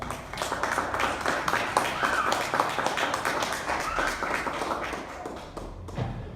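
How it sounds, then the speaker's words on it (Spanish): A church congregation claps together in a dense, moderately loud burst that continues for several seconds and then trails off, with a few voices faintly mixed in. "Den un aplauso a Dios."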